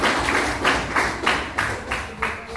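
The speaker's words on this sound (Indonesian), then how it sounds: "tepuk tangan untuk kelompok 2" A classroom group claps together in a steady, evenly spaced rhythm for the second group, six or so loud unison bursts close by.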